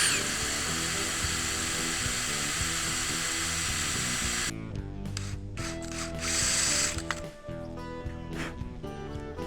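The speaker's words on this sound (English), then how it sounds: "tap through the bracket, and that'll make sure that everything lines up perfect" A hand tap cuts threads through a steel rear axle bracket, giving loud, close ratcheting and grinding clicks that run continuously, with a busy mechanical background throughout.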